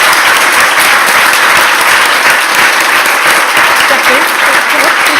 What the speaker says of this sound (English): Another round of applause for Jacqueline, please.